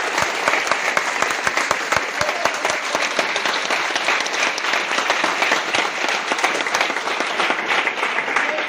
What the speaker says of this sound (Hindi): आप सभी लोगों के लिए जोरदार तालियां चाहता हूँ